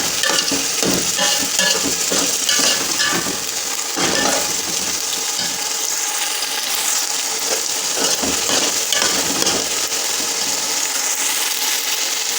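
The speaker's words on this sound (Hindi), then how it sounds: "तो अब हम मटर जो है वो फ्राई कर लेते हैं" Fresh green peas fry in oil in a pot for matar pulao, making a loud, continuous sizzle broken by repeated scraping and stirring strokes from a spoon.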